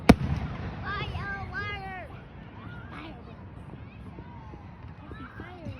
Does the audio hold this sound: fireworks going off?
yes